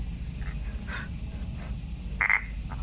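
Frogs croaking outdoors at night in rural surroundings, several short, separate croaks at moderate distance over a steady bed of insect buzz and background hiss.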